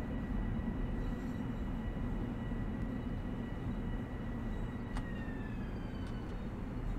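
A simulated train in Train Sim World rumbles along on the Hempstead to Atlantic Terminal run, a continuous low drone with a faint high whine and a brief squeal near the end, with no voices.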